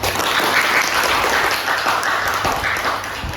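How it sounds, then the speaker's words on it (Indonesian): A classroom applauds group 3 after their presentation: dense, steady clapping from many hands, fairly close and loud throughout, easing slightly toward the end. "Kita beri tepuk tangan untuk kelompok 3."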